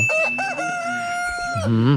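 Rooster crowing at a rural farm coop with duck and pig pens nearby, a long drawn-out crow rising and holding, followed by shorter clucking, fairly close with no talk.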